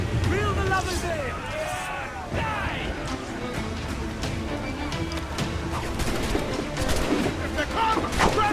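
Ship cannons in Assassin's Creed 4 Black Flag fire in a rolling volley, with booms and crashes over the churn of the sea, while pirate crew voices shout throughout.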